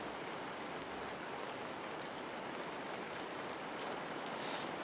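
Heavy rain falls in an even, unbroken hiss that stays constant and moderately faint throughout, with no voices.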